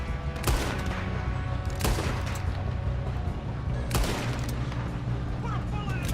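Red Dead Redemption 2 gang shootout: sharp gunshots crack out in scattered bursts, several loud reports with echoing tails over a low rumble and background voices.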